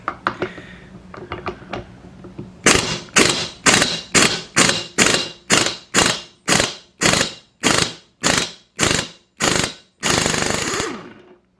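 About fifteen evenly spaced, loud ratchet strokes from a 19mm socket wrench loosening the flywheel nut on a Stihl 019T chainsaw, each burst clicking rapidly before a short pause.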